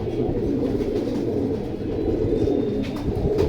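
Pigeons cooing softly and steadily over a constant low background hum, with no talking.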